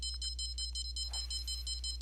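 Bite alarm in the Fishing Planet game, a rapid string of about ten short high electronic beeps in even rhythm, clear over a low steady hum.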